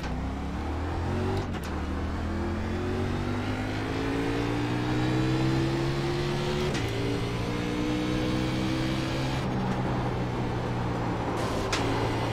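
A race car engine in iRacing's Xfinity Series at Bristol Motor Speedway on a qualifying lap drones steadily and loudly, its pitch climbing and dipping with brief gear-change breaks, close and continuous with no talk.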